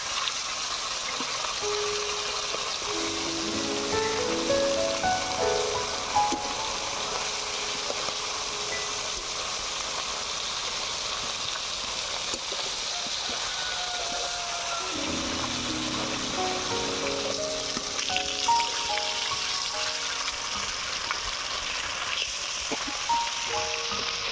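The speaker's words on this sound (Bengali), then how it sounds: "এবারে দিয়ে দিচ্ছি সরিষার তেল। এবারে মাছগুলো ভেজে নেব।" Small fish frying in hot mustard oil, a steady broadband sizzle and bubbling hiss running continuously and fairly close, with faint tonal kitchen sounds drifting underneath.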